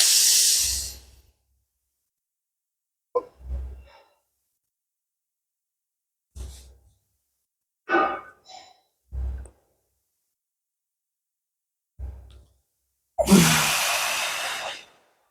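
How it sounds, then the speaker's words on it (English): Pressure breathing during a side-lying stretch: a series of close, breathy exhales and short inhales in separate bursts, with a long forceful hiss at the start and another at the end, quiet gaps between. "We're going to pressure breathe here"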